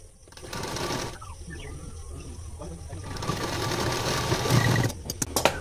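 A sewing machine runs stitches along a blouse hem at its longest stitch length, whirring steadily and close by for several seconds with a soft mechanical rattle, starting and stopping briefly near the end.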